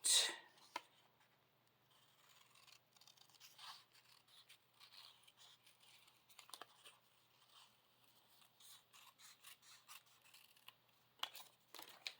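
Scissors snipping through paper for a handmade greeting card with a cheerful basket design, heard as quiet, irregular short cuts and faint rustles alone in a still room.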